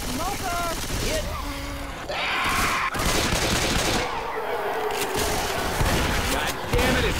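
Gunfire in the video game Left 4 Dead 2 multiplayer: rapid shots and bursts crackle through a busy mix of game effects while players talk over the action.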